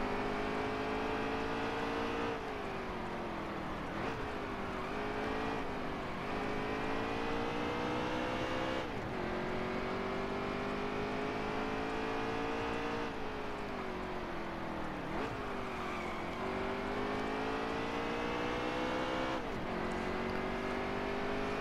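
Racing truck engine in the video game NASCAR Heat 3, a steady high whine that holds on without a break while the pitch rises and dips as the truck lifts and reaccelerates through corners.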